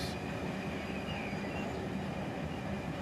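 A freight train in the Run 8 Train Simulator video game applies its air brakes, a steady broad hiss and rumble of rolling cars with a brief sharp burst at the start, continuous and fairly loud.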